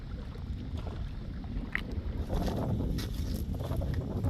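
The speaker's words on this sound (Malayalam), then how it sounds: "നല്ല കാറ്റുമുണ്ട്" Steady wind rumbles and buffets against the microphone outdoors, with faint water and boat noises underneath.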